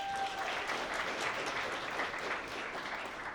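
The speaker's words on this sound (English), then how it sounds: "Give him a round of applause." An audience at a procurement leaders summit gives a panelist a round of applause. The clapping is steady and even throughout, with a brief tone audible at the start.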